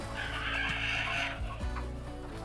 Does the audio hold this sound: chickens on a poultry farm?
yes